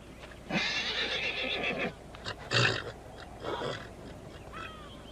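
A horse whinnies loudly and close, a long neigh followed by a shorter cry and softer snorting calls, with no talk over it.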